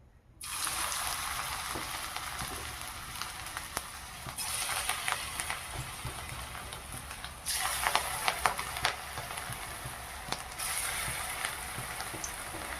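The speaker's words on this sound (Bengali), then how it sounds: "তেল গরম হয়ে গেছে, এবারে একে একে পকোড়া ভেজে নেওয়ার পালা" Banana flower pakoras deep-fry in hot oil with a continuous bubbling sizzle that swells louder at intervals as more pieces go in, with occasional crackles and pops.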